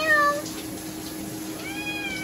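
Two short cat meows, one at the start and another near the end, nearby, with quiet steady background noise between them.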